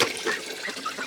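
Water pours from a rain barrel into a duck pool, a steady hissing splash with ducks quacking faintly nearby.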